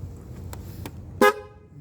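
A single loud car horn blast on a vehicle fitted with a mini driving light, sounding for about a tenth of a second against low road-like rumble, followed by a fading tonal tail.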